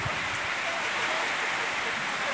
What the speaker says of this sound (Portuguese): Olha aí como que tá chovendo nesse momento.